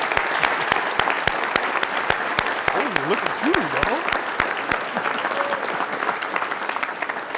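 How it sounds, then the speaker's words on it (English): An audience at a Pro Football Hall of Fame event in Canton gives a hall-wide round of applause, steady, dense clapping with sharp individual claps standing out. Someone speaks briefly over it. "let's give Thurman a big round of applause here"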